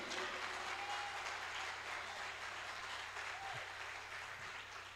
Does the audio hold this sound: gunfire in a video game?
no